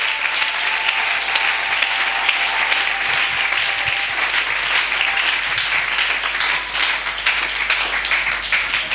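A church congregation claps and applauds steadily and loudly for the whole stretch, a dense, continuous crowd applause with no breaks.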